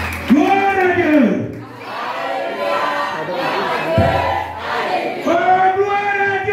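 Pentecostal church congregation at a seminar shouting and cheering together in loud, swelling bursts of crowd voices, with a few whoops rising above the collective roar.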